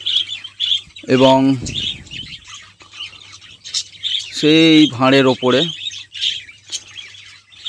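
Pet birds in a breeding colony squawking loudly and harshly in several bursts close by, mixed with faint chirps, as a person talks over them.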